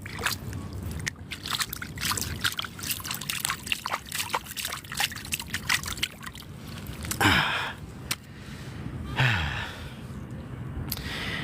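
Water trickles and sloshes as a mudlarking find is rinsed in the Thames, with irregular splashy dribbles, a couple of louder sloshing bursts near the end and a steady outdoor wash of background noise throughout.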